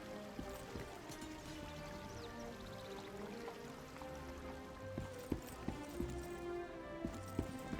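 Hooves clip-clop steadily in the video game Lost Ark, soft regular strikes sitting under a layer of sustained background music.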